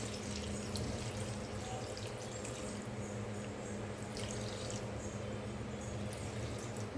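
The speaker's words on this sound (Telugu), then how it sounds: "కొన్ని వాటర్ పోసుకోవాలి" Steady stream of water running and splashing into a pan of greens with turmeric and salt, with a few faint drips and clinks, no voices.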